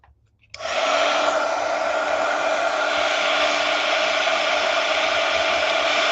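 A heat gun runs steadily at close range to warm shrink art plastic, a continuous loud blowing hiss that starts abruptly after a brief quiet moment and holds without a break.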